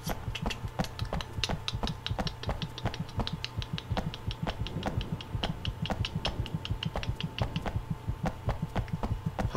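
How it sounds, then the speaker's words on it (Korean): A fast heartbeat effect from the horror video game White Day: rapid, steady, evenly spaced thumps with sharp ticking edges, loud and continuous throughout, with no talking. "가슴이 가슴이 이렇게 뛰냐 수희야다 설렜나봐 심장소리 개, 개 빨라"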